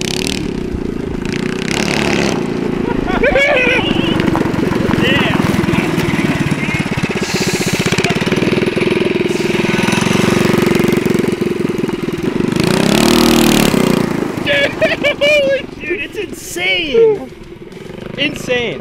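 A Predator 212 Ghost racing engine runs loud and steady throughout, with rising and falling revs under people talking nearby.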